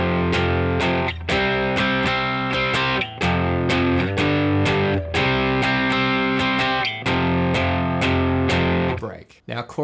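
An electric guitar with light distortion strums the chorus of a song in rhythmic, choppy chords, loud and close, then cuts off at the end.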